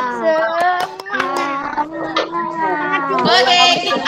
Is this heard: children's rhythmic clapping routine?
yes